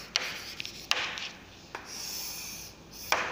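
Faint scratching of writing on a board, a few short rubbing strokes and light taps spread across the span, quiet and close.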